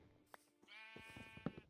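A Minecraft sheep gives one clear, fairly close bleat in the middle of a short stretch of quiet game ambience, with a couple of soft thumps before it and a sharp click near the end.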